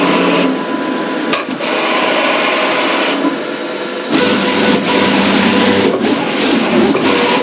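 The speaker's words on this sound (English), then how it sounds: "I like that the cutter's on this side over here, which you can see right there. So now it's getting ready to cut." An HP printer's cutter slicing through a laminated print makes a loud, continuous scraping whir, with a brief click partway through and a sharper, louder cutting pass in the second half.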